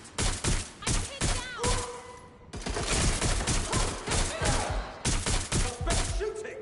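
Rapid bursts of gunfire from the video game Watch Dogs: Legion, loud close volleys of shots repeating in clusters with brief gaps and a short break midway.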